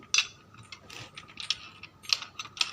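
Motorcycle gearbox gears click and ratchet as they are turned by hand during shifting, a close series of sharp metallic ticks at uneven intervals with no talking.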